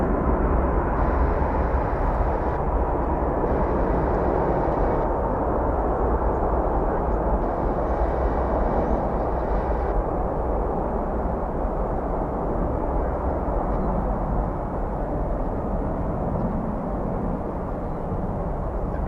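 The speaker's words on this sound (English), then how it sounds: "It's American Flight 2668, an A321." American Airlines Airbus A321 airliner, flight from Houston, at Dallas/Fort Worth Airport, giving a steady, loud broadband jet engine roar that holds for the whole stretch with no voices.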